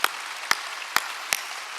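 Short bursts of applause from a church congregation during a Wednesday worship service, four quick claps of sound spaced about half a second apart over steady room noise.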